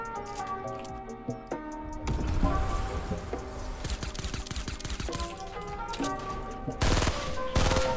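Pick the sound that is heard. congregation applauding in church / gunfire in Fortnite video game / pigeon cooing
gunfire in Fortnite video game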